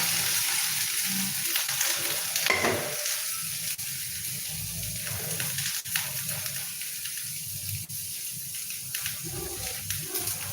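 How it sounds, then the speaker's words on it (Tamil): Mustard seeds splutter in hot oil in a clay pot while kumatti greens and dal kadaiyal are being cooked, giving a continuous close sizzle dotted with sharp pops and crackles. "கடுகு நல்லா பொரியட்டும்"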